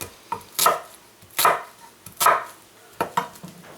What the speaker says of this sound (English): your onions, you might want to cut them up any way you want, but I prefer this cut when I cut them